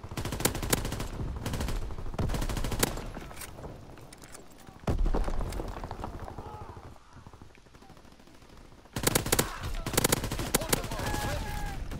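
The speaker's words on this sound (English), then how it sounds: "I'm gonna shoot through this wall a couple times" Repeated gunfire in Call of Duty WW2 while shooting through a wall, with loud close bursts of shots at the start and again near the end, quieter sounds between them, and speech heard in places.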